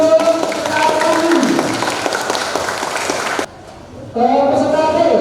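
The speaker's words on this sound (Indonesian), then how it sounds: "tepuk tangan untuk peserta kami" An audience at a school quiz competition final claps for a contestant, with sustained loud applause that cuts off abruptly and then resumes, over a background music bed.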